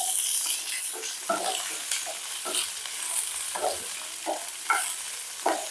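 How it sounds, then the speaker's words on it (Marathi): Bitter gourd stir-fried in oil over a high flame, a loud steady sizzle close by, broken by repeated scrapes and tosses of a spatula in the pan, with no talking. "इथे आता एक मिनिट तरी कारलं चांगलं परतून घ्यायचं तेलावर"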